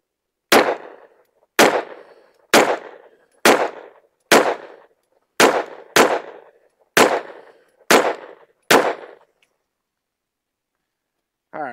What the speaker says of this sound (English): We've got 10 rounds of CCI Blazer loaded up. We're going to shoot at the bottom left target.